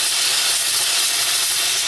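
Steam hisses loudly and continuously from a cooking pot packed with vegetables and water as the pressure is released, a close, even rushing sound with no talking.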